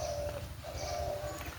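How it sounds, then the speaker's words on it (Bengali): A dove perched nearby gives soft, low cooing calls, faint and repeated in a gentle rhythm over a quiet outdoor background. "একটা ঘুঘু এসে বসে দেখলাম।"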